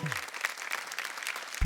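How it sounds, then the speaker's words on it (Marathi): Studio audience on a Marathi TV game show breaks into steady, dense applause, a continuous wash of many hands clapping at moderate level, with no talk over it. "एकदा जोरदार टाळ्या होऊन जाऊ देत"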